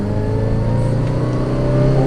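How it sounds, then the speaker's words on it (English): A first-generation Toyota Tacoma pickup floored in second gear from about 25 mph, its engine droning loud and steady as it accelerates, heard up close from inside the cab. "Let's put it in second gear and floor it."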